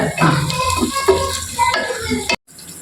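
Shallots sautéing in a pot for a Palakkad-style Rawther biryani, with a steady sizzle and repeated scraping stir strokes close by, cutting off abruptly near the end.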